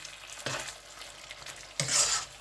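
Chicken malai with cream cooking in a pan, stirred in two short scraping bursts over a soft background sizzle, close and moderately quiet.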